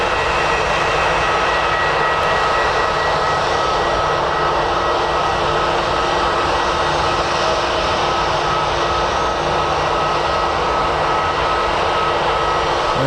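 A Hercules aircraft on the move at Birmingham Airport gives a loud, steady, broadband engine roar that holds unbroken throughout, with no voices over it.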